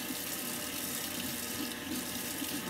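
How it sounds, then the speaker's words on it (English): A kitchen tap runs steadily as a spatula is rinsed under it after mixing chocolate cake batter, a close, constant splashing rush of water with no talk. "Rinse off my spatula."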